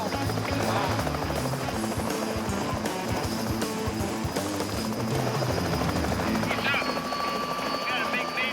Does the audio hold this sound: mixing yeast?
no